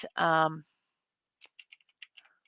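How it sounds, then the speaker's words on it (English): Typing on a computer keyboard, a short burst of light, uneven key clicks close by, following a brief vocal sound at the start. "Well, I'm typing the name in now."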